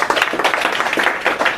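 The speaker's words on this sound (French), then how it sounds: "applaudissez-vous" An audience at a motivational leadership talk clapping for themselves, a dense burst of applause close and loud from start to finish.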